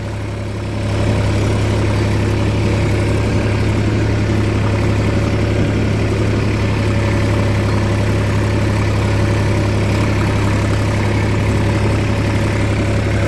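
Tractor engine running with a tiller attached behind it and carrying a light load, a loud steady low diesel drone with a strong hum that starts about a second in and holds evenly throughout, with no voices.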